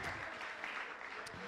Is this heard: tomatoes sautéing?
no